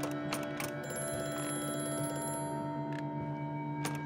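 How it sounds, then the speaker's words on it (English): A telephone rings in the horror video game Amnesia: A Machine for Pigs, with repeated bright bell bursts over a steady tonal hum and no talking. "Oh, it's another phone call."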